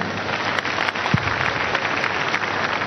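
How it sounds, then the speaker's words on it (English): Congregation clapping at a Sunday church service, a dense, even roar of many hands that fills the space without pause, loud and continuous. "Let's clap for them."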